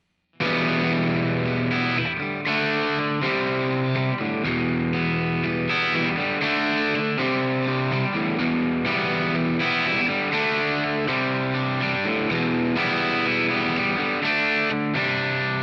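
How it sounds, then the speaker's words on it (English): A distorted electric guitar plays the chunky, repeating verse riff of a song at a steady rhythm, loud and continuous with no voices. "Then we go to the verse, and the verse section sounds like this."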